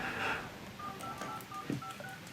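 Flip-phone keypad tones beep in a quick series of short, clear dialing pips inside a pop music video, fairly faint and set against the backing track.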